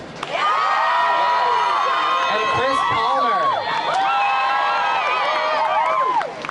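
Crowd at a climate strike rally cheering and whooping loudly and continuously, with shouts rising over the din while a voice speaks through it.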